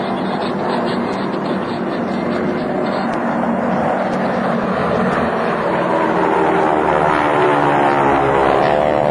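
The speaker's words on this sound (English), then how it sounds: "Here comes the GEICO Skytypers in their final formation." A steady, loud drone from the GEICO Skytypers' propeller aircraft flying in formation at a 2007 air force base open house, with engines swelling slightly as the planes pass overhead and no talk.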